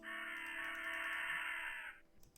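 A parrot in the video game Rusty Lake Roots lets out one long, harsh squawk lasting about two seconds, clear and fairly loud, then cuts off abruptly.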